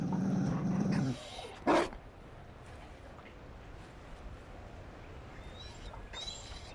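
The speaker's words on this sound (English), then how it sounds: "You found a dog." A dog, a Mabari hound, barks once in Dragon Age: Inquisition's Trespasser, a single short loud bark standing out over a quiet ambient game background.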